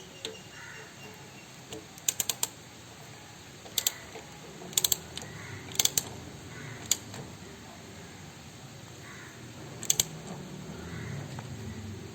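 A 12 mm socket or spanner turns the flange bolt on a Honda Activa scooter, giving close, crisp ratchet clicks in short bursts of two to four with pauses between, over faint background hiss.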